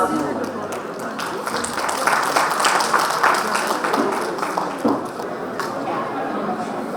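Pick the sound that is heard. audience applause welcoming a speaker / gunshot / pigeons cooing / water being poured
audience applause welcoming a speaker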